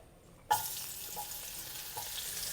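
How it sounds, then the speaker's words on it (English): Butter drops into about half a cup of hot oil over medium heat and sizzles with a sudden burst, then settles into a steady crackling hiss with a few soft pops, for crispy butter prawns. "Add in 30 grams of butter"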